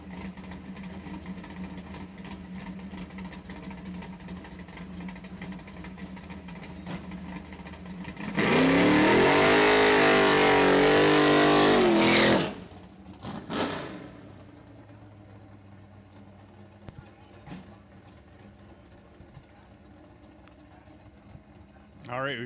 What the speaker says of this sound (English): Ford Mustang Mach 1. Getting in some solid hits today in that beast of a vehicle.